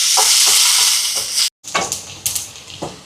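Dried chillies, shallots, garlic and curry leaves sautéing in a hot pan for Jaffna-style sambar, a steady loud sizzle broken by scraping stirs, a brief pause midway, then renewed frying with spoon knocks.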